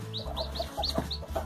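Chickens cluck repeatedly at a small farm while a hen pecks nearby, bright short calls recurring about every fraction of a second, close and moderately loud over a steady low hum.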